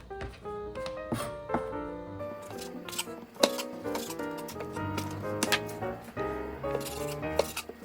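Food strips, stacked two at a time, are sliced for a hominy soup topping, producing a run of crisp, close snipping cuts in an irregular rhythm with small clicks and taps between them.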